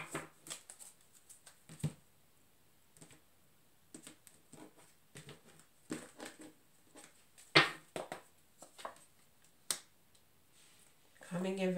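Tarot cards being shuffled by hand, scattered quick riffles and flicks with gaps between them, close and fairly soft, with a person speaking intermittently.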